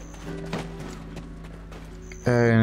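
Horse hooves clip-clopping in the online role-playing game Black Desert, a steady rhythmic trot over a quiet game soundtrack, with a louder bright sound burst near the end.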